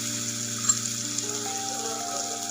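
Green chillies sizzle in hot oil for shepu bhaji, a steady close frying hiss with small pops and crackles throughout and no voices.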